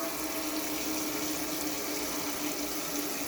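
Cold tap water pouring steadily into a kitchen sink, a constant broadband hiss and splash with no breaks, moderately quiet and heard alone.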